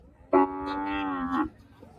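A single loud, close moo from a cow at a busy cattle market in Shantipuram, Andhra Pradesh, lasting just over a second above a low background murmur.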